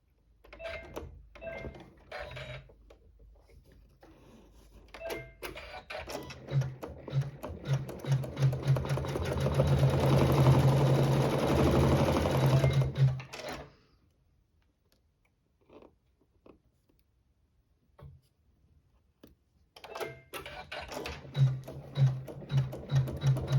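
A sewing machine stitches a quilt block during a machine-embroidery quilt-along, running steadily for about eight seconds at close range. Scattered ticks and clicks come before and after the run.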